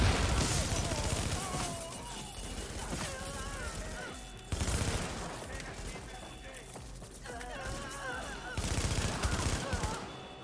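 Gunfire in the video game The Division rattles in repeated volleys of quick shots with heavier bursts between, fairly quiet and mixed with a voice talking over it.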